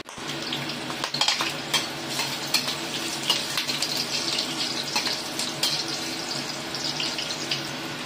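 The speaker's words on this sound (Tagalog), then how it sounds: "So igisa natin muna siya ng ginger para hindi siya malansa." Pork ribs sautéed with ginger in a pan for braised pork, giving a steady sizzle with frequent spatula scrapes and clinks against the pan, close and continuous.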